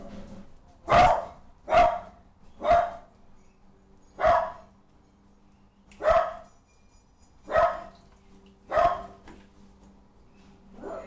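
A dog barks in seven sharp, separate bursts spaced a second or two apart over a quiet background, moderately close and with no talking.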